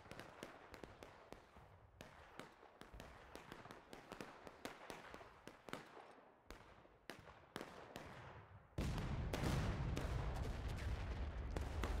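Rapid musket volleys and scattered single gunshots crack in a Civil War battle at Dunker Church in War of Rights, sharp reports near and far, then a dense roaring fusillade swells loud and continuous near the end.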